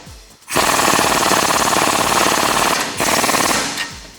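A rapid hammering impact wrench with a 21mm deep socket on a swivel runs down a strut nut on a 2006-2018 Ram truck knuckle, one loud sustained burst with a brief dip near the end, no talk.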